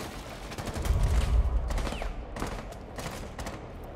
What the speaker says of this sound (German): Der Schuss kam von links.